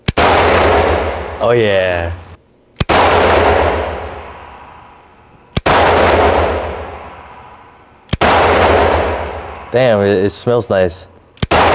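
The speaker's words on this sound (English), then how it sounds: "Oh, this shit is a full-size pistol." Full-size pistol gunshots, four loud reports with long echoing tails spread across the span, with people talking between and over some of the shots.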